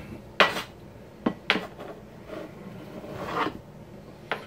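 Boiled potatoes for potato salad being pushed from a plate into a small bowl: a few sharp scraping clatters of utensil against dishware with softer rubbing in between, close and alone.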